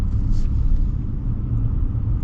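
A 2026 Ram Tradesman Power Wagon pickup rolls along at low speed, its steady low engine and road rumble continuous and close, with a faint brief whoosh early on.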